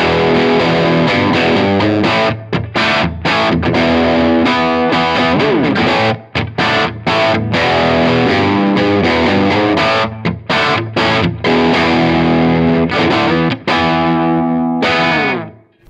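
Electric guitar runs through a Boss amp modeller with a distorted, effects-laden tone, playing continuous chords and riffs with brief gaps, loud and close, with no voices.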